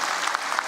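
An audience claps at a national education conference, a brief, dense burst of applause that carries evenly from start to finish.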